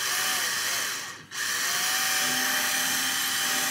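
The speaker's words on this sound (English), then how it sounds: "And we're gonna slowly drill this through." A power drill bores slowly through a model tree trunk from a tree kit, a steady close whine that briefly dips and then resumes at full speed.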